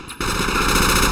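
Sustained machine gun fire in the tactical shooter game Project Reality, a rapid continuous burst starting abruptly after a brief lull and holding loud and close to the end.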